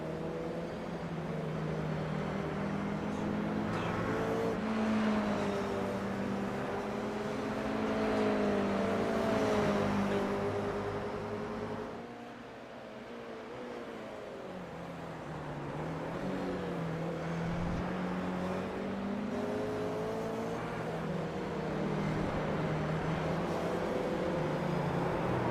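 Toyota AE86 Hachi-Roku race cars lap a circuit during a timed qualifying session, a steady layered engine drone from several cars at mid distance, rising and falling as they pass, with a brief lull before the noise returns.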